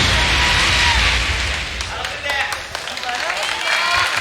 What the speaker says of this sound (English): You can hear the comfortable Japanese crowd cheering on Gen right now